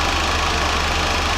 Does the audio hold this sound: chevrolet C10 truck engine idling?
yes